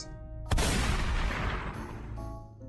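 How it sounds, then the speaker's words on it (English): A single sharp gunshot cracks out, followed by a long reverberating boom that slowly decays, with a low musical drone underneath. "and then one last gunshot."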